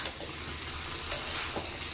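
A vegetable curry with fried lentil bori sizzles in a pan as it is briefly stirred, a steady frying hiss broken by a couple of quick spoon scrapes.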